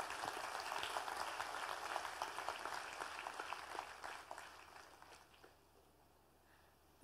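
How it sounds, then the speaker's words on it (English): An audience applauds at a college orientation ceremony, a dense clapping that is moderately distant and fades away over several seconds into near silence. "A huge round of applause."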